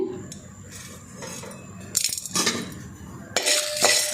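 Peanuts, chana dal and dried red chillies roast in a pan over a medium flame. Quiet scraping gives way to two loud bursts of clinking and rattling as the pan is stirred, with no voices.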